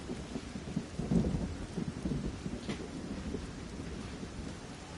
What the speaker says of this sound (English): And there's the rain again.